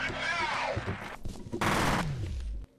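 Shotgun blasts from the first-person shooter F.E.A.R., several loud booming shots with gunfire clatter and ringing decay, close and dense, ending abruptly.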